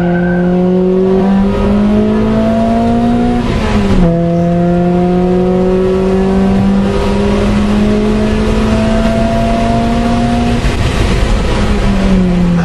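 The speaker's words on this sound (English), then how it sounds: "Taking it harder into the corners, pushing the car a little bit faster." Honda Prelude Type S pushed hard on a hotlap, its engine revving loud and close with rising pitch through the gears, a sharp lift and gear change partway, then sustained high revs with tire noise underneath.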